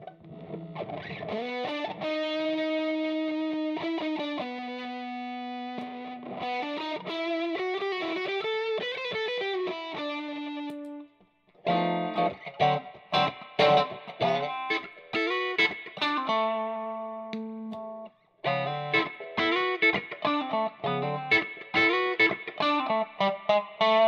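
Distorted electric guitar on a custom-wired Strat, bridge and neck pickups in parallel but out of phase, plays chords and riffs with a thin, nasal, hollow tone, pausing briefly between phrases.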